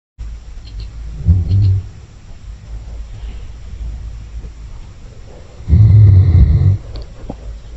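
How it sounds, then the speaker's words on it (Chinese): A corgi snoring loudly, two deep rumbling snorts several seconds apart with quiet breathing between them, very close. "打呼噜像打雷的柯基。"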